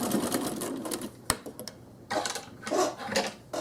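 Sewing machine stitching directly across a piece of faux-piped quilt binding, bursts of rapid needle chatter separated by brief pauses and a sharp click, fairly close and alone.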